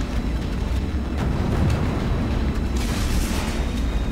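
Torpedoes launch and explode in the space combat game Strike Suit Zero, a dense rumbling barrage of booms and bursts that rolls on continuously and fairly loud, with a sharper flare-up toward the end.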